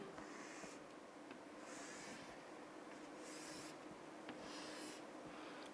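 Pencil drawn along a ruler joining points on a technical drawing, a steady scratchy hiss with several longer strokes rising and falling in faint repeated passes.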